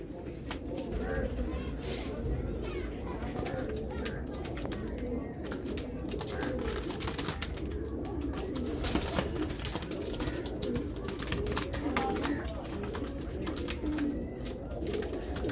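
A flock of pigeons coos continuously at close range, soft overlapping throaty calls with scattered wing flutters and rustling throughout.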